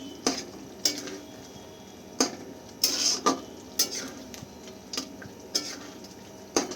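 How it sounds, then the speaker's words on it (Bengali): A spoon stirs ground spice into chicken in a pot for dahi chicken, knocking and scraping the pot in a steady, uneven rhythm of about a dozen close metallic clinks with a soft kitchen background. "তারপর ভালো করে চিকেনের সাথে আমি মিক্স করে নেব মশলাটা"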